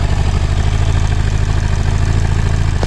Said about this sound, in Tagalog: narinig ko yung andar ng makina